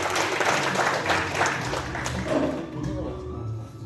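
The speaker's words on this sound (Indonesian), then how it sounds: "Tepuk tangan dulu untuk kita sama-sama." Audience applause at a seminar rises and then thins out, clapping that fades into a quieter room with some background murmur.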